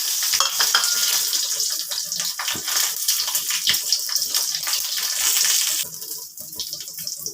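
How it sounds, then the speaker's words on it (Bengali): Two dried red chillies drop into hot oil for tempering, just after fish heads were fried for a moong dal: a steady, loud, bright sizzle and crackle that fades slightly near the end. "এবার ফোড়নে প্রথমে দুটো শুকনো লঙ্কা দিলাম।"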